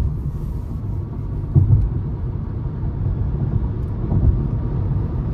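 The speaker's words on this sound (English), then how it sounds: "let's go ahead and accelerate here" Steady low road rumble and drivetrain hum from a 2023 Nissan Leaf S electric car accelerating, heard from inside the cabin as a continuous, moderately loud drone with no voices.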